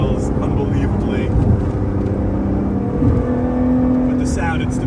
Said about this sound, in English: One thing you can really hear at nice higher RPMs is the titanium exhaust that this car was optioned with.